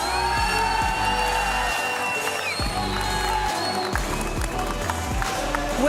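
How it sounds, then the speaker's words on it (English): A large esports arena crowd at the FIFAe World Cup Rocket League quarter-finals applauds and cheers continuously, with dense clapping and a rumbling audience filling the space. "please, round of applause for Team"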